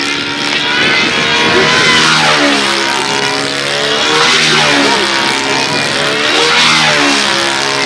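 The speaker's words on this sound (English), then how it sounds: "Flying a 91, I think it's an OS Max." An OS Max .91 engine on a model aircraft flying a practice flight at a world championship, a loud, steady high-pitched whine that rises and falls as the plane circles and passes.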